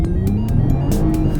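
A 2020 Toyota Camry TRD in sport mode accelerating hard from a standstill, engine droning loudly with a rising tone from inside the cabin, broken by a few short bright whooshes.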